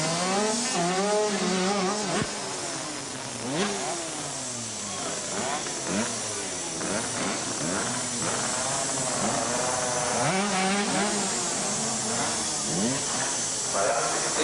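250cc supercar race cars racing on a track, engines whining and rising and falling in pitch as they pass, continuous and fairly loud throughout, with a voice heard over the engine noise.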